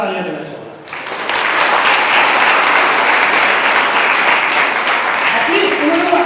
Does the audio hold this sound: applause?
yes